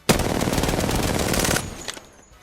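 An automatic gun in a video game fires one sustained burst of rapid, evenly spaced shots for about a second and a half, loud and close, then stops, followed by a faint shell-like clink.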